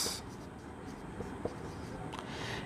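Pen or pencil writing on paper, close and quiet, a soft continuous scratching with a few light taps over a low background hiss.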